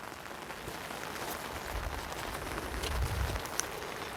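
Steady rain patters and hisses on surfaces, swelling slightly louder midway, with a few heavier drops and low thumps near the end.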